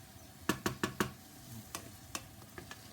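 Lamb keema curry stirred in a pan, a spoon knocking the pan in a quick run of four sharp taps, then a few more scattered clacks over a faint sizzle.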